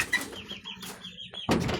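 Pet backyard chickens cluck softly in the morning in a few short, close bursts, with a brief rustle or flutter near the end.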